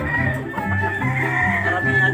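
Chickens on a farm cluck steadily, with a rooster's drawn-out call threading through a dense, close flock chorus; no one talks.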